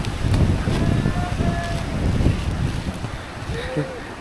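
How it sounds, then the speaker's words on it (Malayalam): Gusty wind buffeting the microphone in a low, continuous rumble, with a few faint distant tones in the background. "നല്ല കാറ്റുണ്ട്"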